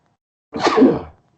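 A single sharp sneeze, close and fairly loud, lasting about half a second, with silence before and after.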